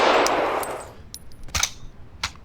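Heavy caliber gunfire in the shooter game Black Bag: one loud booming shot decays away, then a few sharp distant clicks and metallic clinks follow.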